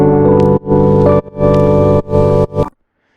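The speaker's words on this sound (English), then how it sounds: "I pitch shifted the entire sample an octave up" A bright, high-pitched tonal sample plays in four sustained bursts separated by short gaps, then cuts off into silence.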